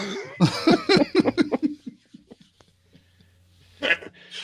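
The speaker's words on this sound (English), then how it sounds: "I'm sorry about the coughing, everybody." A person coughs repeatedly in a rapid burst of harsh hacks, followed by a few quieter coughs and a breathy throat sound, close to the microphone.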